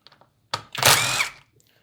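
Power tool whirring in a short burst as it backs bolts out of a 50cc SYX Moto dirtbike, starting with a brief rev and then running steadily for under a second before stopping, close and loud with faint clicks around it.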